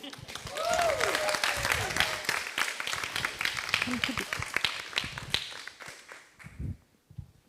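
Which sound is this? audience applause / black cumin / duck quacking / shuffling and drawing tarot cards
audience applause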